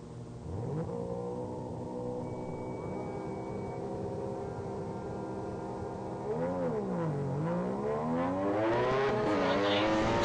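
A race car at a ProSolo autocross revs its engine with long sustained tones that swoop up and down as it launches and shifts, loud and continuous.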